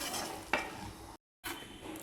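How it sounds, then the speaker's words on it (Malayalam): Green peas kurma being stirred with coconut paste and water in a pan: soft scraping and bubbling strokes with a brief clink, quiet and close, then a short gap before more stirring. "നന്നായിട്ട് ഇളക്കി യോജിപ്പിച്ചെടുക്കാം"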